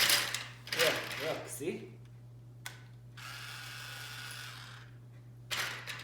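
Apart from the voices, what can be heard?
toy drill from a child's tool kit being operated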